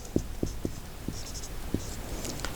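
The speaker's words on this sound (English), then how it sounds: "suppose I will write date" Chalk or marker writing on a classroom board gives a series of quick, close taps and short scratchy strokes in an uneven rhythm, with no talking over it.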